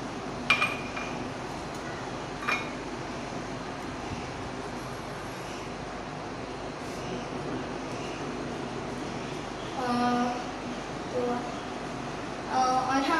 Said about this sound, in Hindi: मैं तब तक कप्स को रेडी करके रखती हूँ तो ये है दो कप्स